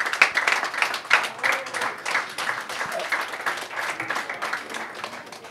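Crowd applause for Rayon Sports players, a dense, steady wash of many hands clapping that rises and falls slightly across the clip, fairly close and without clear speech on top.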